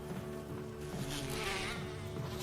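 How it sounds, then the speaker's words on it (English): Bees in the Resident Evil HD Remaster video game buzz in a continuous droning hum, swelling and fading slightly as they swarm close by with no talk. "Grab the insecticide spray to kill these bees and stuff in here"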